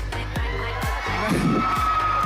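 Fans crowd a mall stage show, screaming and cheering loudly in a dense, continuous roar with shrill shrieks rising above it, close and energetic.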